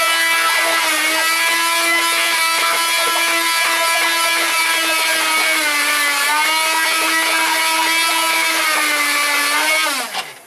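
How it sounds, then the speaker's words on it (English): A small handheld blender whirs through 4 ounces of cream cheese for frosting, a steady high motor whine with shifting pitch that runs continuously close up before winding down at the end. "but I use a little handheld blender."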